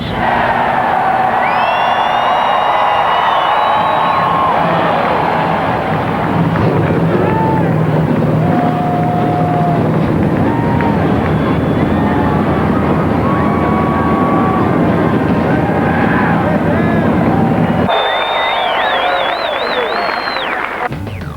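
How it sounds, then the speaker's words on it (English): A field of 2003 Winston Cup stock cars firing their engines at Charlotte, a loud, dense, continuous roar with crowd noise and a voice over it throughout. "Gentlemen, start your engines."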